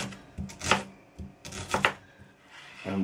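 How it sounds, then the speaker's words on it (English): Knife chopping an onion finely on a board, a few crisp close knocks in short bursts with quiet gaps between them, no talking. "So now I want to chop the onion finely"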